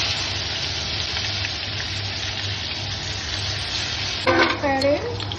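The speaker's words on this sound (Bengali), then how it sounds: "শুকনো লঙ্কা ফোড়ন দিলাম, একটু গোটা জিরে দিচ্ছি" Dried red chili and whole cumin tempering in hot mustard oil, a loud, continuous crackling sizzle, with a brief murmur of voices near the end.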